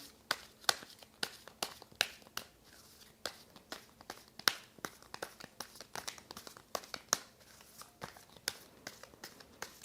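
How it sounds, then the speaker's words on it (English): A deck of tarot cards is shuffled by hand in quick, irregular riffles and taps, sharp crisp clicks close to the microphone in a quiet room, repeating for several seconds without talk. "I'm going to shuffle the cards and not talk a whole lot during this time."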